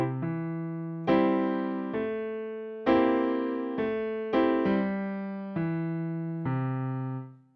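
Boogie-woogie piano chord pattern, played as a steady rhythmic run of about nine struck chords over seven seconds. Each chord rings out and decays before the next, heard clearly and alone.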